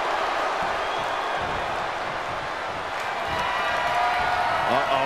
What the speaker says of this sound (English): He's taking a moment to feel the crowd,